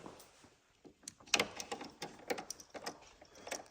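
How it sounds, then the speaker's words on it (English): A power driver tightens a screw on a van in a few short whirring bursts, mixed with light clicks and handling noises close by. "So I'll finish tightening that with the driver"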